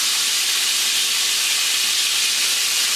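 Chicken pieces for orange chicken fry in very hot oil, a loud, dense, continuous hiss and sizzle close up, steady throughout with no breaks and no talking.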